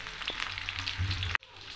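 Onion and curry leaves sauté in hot oil for chicken dalcha, making a steady close sizzle with light stirring scrapes that cuts off abruptly near the end.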